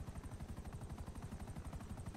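A combat helicopter in a video game comes in to land, its rotor thumping in a fast, steady beat with a heavy low rumble that runs the whole time, close and loud, with no talking.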